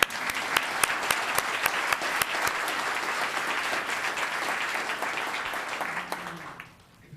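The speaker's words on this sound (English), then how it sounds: "Let's give a round of applause." A round of applause fills a town council meeting room, dense clapping from the gathered audience with a few sharper individual claps standing out, steady for about six seconds before quickly dying away.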